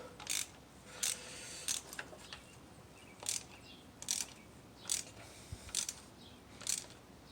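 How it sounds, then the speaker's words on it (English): Socket ratchet tightening a spark plug in a 2003 Nissan Sentra, a series of crisp ratcheting clicks in short bursts with pauses between strokes, close but fairly quiet. "all you want to do is use your socket, your ratchet, and go"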